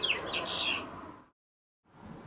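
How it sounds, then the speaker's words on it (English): Birds chirping energetically outdoors, a bright busy tangle of calls for about a second before a gap, then more chirping returns nearby. "the birds out here are very energetic"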